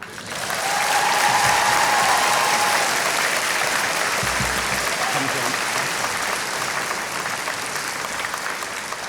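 A commencement crowd applauds, dense sustained clapping swelling quickly and holding loud for several seconds, a faint murmur of voices mixed into the din.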